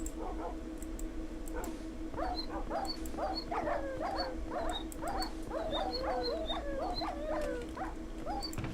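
Dogs in Minecraft barking and whimpering in a pit, a dense run of repeated yips and barks from several animals over a steady game hum, some near and some farther off.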